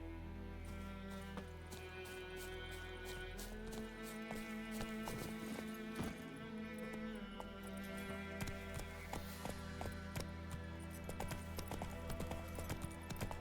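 Hooves of Roach, the horse in The Witcher 3, clip-clop in a steady trot throughout, quiet and continuous under layered game music and ambience, with no talking.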